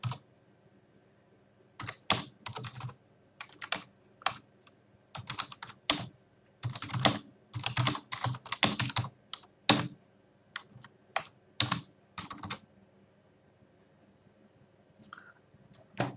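Someone types a message on a computer keyboard in short irregular bursts of crisp key clicks separated by quiet pauses, close and alone with no talking.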